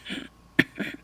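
A voice imitates a throat-clearing rasp, three short gravelly bursts close to the mic, the middle one sharpest, with brief pauses between them.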